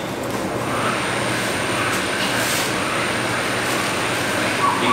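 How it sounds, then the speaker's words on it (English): Motors on an adobe 3D printer pumping adobe mixture through a hose to a straight pipe extruder head, a steady, continuous mechanical drone with broad noisy whirring, close and fairly loud throughout. "motors start to go, which is pumping the Adobe mixture through the hose into the straight pipe extruder head"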